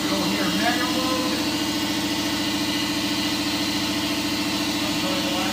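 A CNC router spindle hums steadily at moderate speed while warming up, its motor giving a continuous mid-pitched drone with a faint rhythmic pulsing, close and fairly even.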